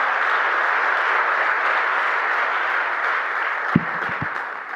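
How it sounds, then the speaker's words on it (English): An audience applauds the AUC Venture Lab team at an opening event, a steady wash of many clapping hands that holds evenly and then tapers off with a few distinct low thumps near the end. "give a strong round of applause for the AUC Venture Lab team"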